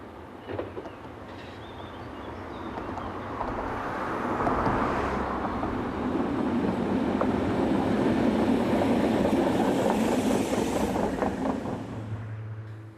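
A Belgian two-car AM 62-65 series local diesel unit runs on the Tamines to Flamel-Haut line. A broad rumble builds and swells as it passes close by, then tails off near the end.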